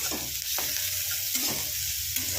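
Onions frying in a pan for a Bengali pumpkin and fenugreek curry, a steady sizzle with faint stirring scrapes, close and continuous, no talking.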